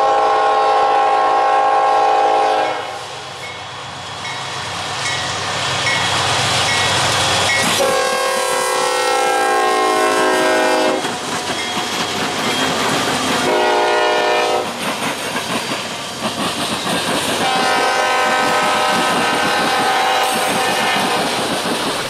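A Norfolk Southern ethanol freight train passes near in Ohio, its horn sounding in several loud sustained blasts over the heavy rumble and clickety-clack of the rail cars.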